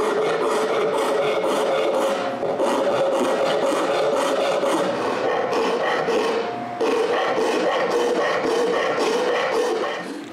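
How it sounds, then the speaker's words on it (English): A hand rasp works over a wooden dog treat bowl at a workbench, a continuous loud scraping rasp with steady back-and-forth strokes, briefly pausing before resuming. "I go back to the workbench and use my rasp again."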